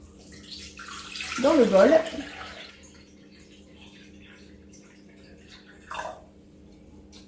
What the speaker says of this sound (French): maintenant il faut mettre 1500 g d'eau